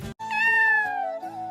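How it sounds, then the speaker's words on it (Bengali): A cat gives one clear, close meow, drawn out with a bending pitch and a short break near the end, heard alone against silence. "বিড়াল,"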